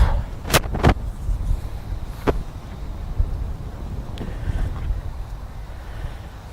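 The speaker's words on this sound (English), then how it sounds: "The wind is so strong, just as it started down, it just gusted." Strong gusting wind on an open golf course buffets the microphone as a low, rumbling roar that swells in waves, with a few sharp crackling bursts early on.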